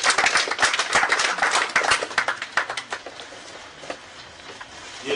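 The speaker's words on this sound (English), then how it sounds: "round of applause, please" An audience in Sierra Leone applauds the FIFA President, a scattered but lively burst of individual claps that is strongest at first, then thins out and trails off into sparse claps.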